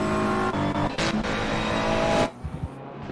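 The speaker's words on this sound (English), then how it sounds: "with Lanevski's green and pink Ferrari trying to resist the tow from Verweyen's BMW" Ferrari and BMW GT race cars in a close battle at Paul Ricard in Assetto Corsa Competizione, engines roaring loud and continuous with a brief surge, then dropping away abruptly near the end.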